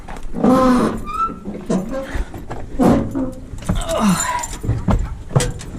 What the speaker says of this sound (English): Okay, it's keys.